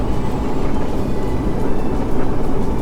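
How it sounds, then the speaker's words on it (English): A semi truck passes at about 60 mph on a canyon road, a loud, dense roar of engine and tires filling the whole moment, with a faint whine from its wheel bearings. "That whining you hear is just the wheel bearings."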